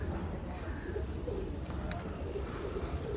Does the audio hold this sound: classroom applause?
no